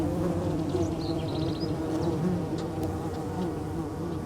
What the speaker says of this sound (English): The Copolicana bees have hairy, colorful bodies and constantly buzz around their tiny colony.